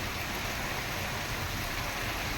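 Stormy rain and gusting wind sweep through a village with Ashoka trees swaying, heard as a dense, steady hiss of rainfall and wind with no breaks, fairly distant and even.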